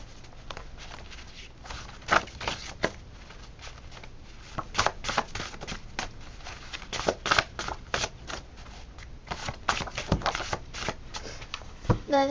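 Handmade oracle cards are shuffled and pulled close up, giving a long stretch of steady riffling and slapping card sounds in uneven bursts that continue throughout.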